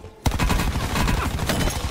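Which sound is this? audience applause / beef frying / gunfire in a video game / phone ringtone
gunfire in a video game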